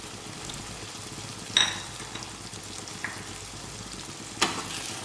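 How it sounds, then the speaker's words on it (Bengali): Rohu fish curry with yogurt sizzles in a pan during stirring, a low steady fry with a few sharp scrapes of the spoon against the metal, close and fairly quiet. "ভালো করে নেড়ে নেব"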